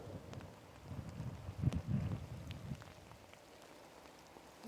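Rain patters on surfaces beside a fishing reservoir, a soft steady drizzle with a brief louder rustle in the middle and faint wind, with no talking.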